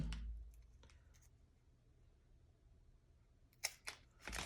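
Scissors snip through a piece of a clothespin fence in a quiet room, a few crisp cuts landing close together near the end.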